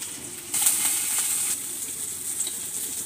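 Chopped onions fry in a pan with a steady, close sizzle, a brighter crackling burst flaring up briefly near the start as they hit the oil, then settling into an even hiss with no voices.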